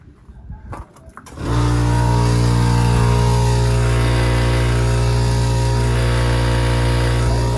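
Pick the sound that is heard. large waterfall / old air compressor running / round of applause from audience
old air compressor running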